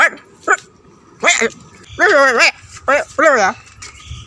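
A dog gives a series of sharp, close barks and yips in quick bursts, some drawn out into whiny howls.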